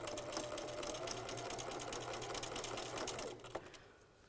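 Sewing machine running steadily along a quarter inch seam, a fast continuous whirring chatter close up that stops near the end.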